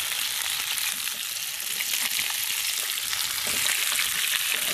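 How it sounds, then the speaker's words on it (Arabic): Chicken sizzles steadily in a pan of melted butter and oil, a close, even crackling hiss that holds for the whole stretch without any talking. "الدجاج نتاعنا يتحمر."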